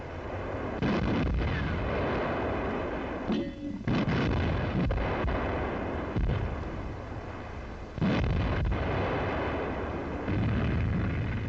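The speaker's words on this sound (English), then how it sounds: "Heavy assault guns smash a Soviet attack." Heavy WWII assault guns fire during a Soviet attack near Vitebsk, a dense run of loud booms and bursts with brief gaps between salvos and no talk.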